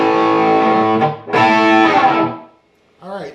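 Distorted electric guitar plays a phrase from an intro solo, climbing from the open 6th string. Loud sustained notes with effects are cut off, then a short lick follows after a brief pause.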